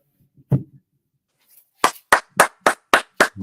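A few people clapping at a Dominica Independence gala, a sparse, slow series of about eight distinct sharp claps after a lone earlier clap, close and clear against near silence.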